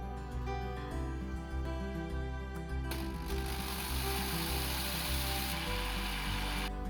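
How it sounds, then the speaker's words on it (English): An electric grinder runs continuously, grinding roasted, cooled ingredients with asafoetida into a coarse chutney powder for idli podi; a steady mechanical hum turns into a louder, dense whirring roar partway through, with no talking. "grind until it forms slightly coarse powder"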